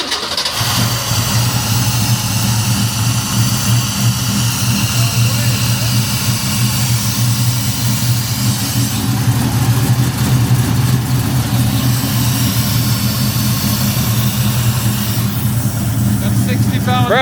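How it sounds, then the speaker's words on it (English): A Ford Mustang fastback V8 fires up for its first start and settles into a steady, loud rumbling idle with a few blips of revving, while people talk nearby. "we're going to do our first startup"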